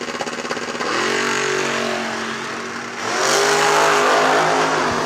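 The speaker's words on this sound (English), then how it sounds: "go into a quick time run for our short junior dragster field here" Junior dragster engines scream loud and close during a short drag racing run, a steady high rev that shifts pitch midway as another car pulls through, with no talk.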